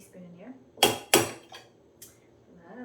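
A teaspoon scoops lemon curd and knocks into a cocktail shaker, giving two sharp metallic clinks followed by a couple of lighter taps, with soft talk around them.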